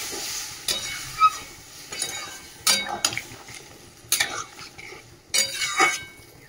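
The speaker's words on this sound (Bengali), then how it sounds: "চল আর সোয়াবিনটা একটু ভালো করে কষিয়ে নিলাম, এবারে জল দিয়ে দিচ্ছি।" Soybean curry stirred in a pan, with irregular clinking, scraping spatula strokes about once a second over a faint sizzle, close and with no voices.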